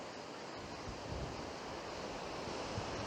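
Sea surf on the Bristol Channel at Bude, Cornwall, a tidal coast with sandy beaches, heard as a steady, fairly faint broadband wash of waves mixed with wind buffeting the microphone, with no voices.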